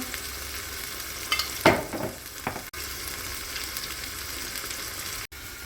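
Tomato paste and tomatoes sauteing in a pot for a bean and chicken stew, a steady close sizzle with a brief burst of stirring scrapes near the middle, no voices.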